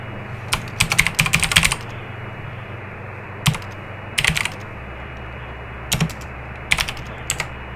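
Bursts of computer keyboard typing at a desk while playing the Stories Untold game, quick close clattering runs of keys separated by short pauses over a low steady hum.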